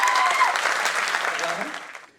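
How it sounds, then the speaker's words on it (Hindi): An audience at a mushaira and kavi sammelan at IIT Bombay claps loudly to welcome poet Charagh Sharma, a thick burst of applause that stays strong, then tapers and fades near the end. "एक बार जोरदार तालियों के साथ स्वागत"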